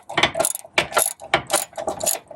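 A ratchet with an extension and 13 mm socket clicks on AC compressor bolts of a Dodge Ram 2500-3500 HD Cummins diesel, four quick rhythmic bursts of close, sharp ratcheting with no talk.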